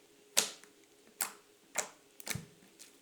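Slime is pressed and squished by hand, producing four sharp, crisp clicking pops spaced about half a second apart, close and fairly quiet against a silent background.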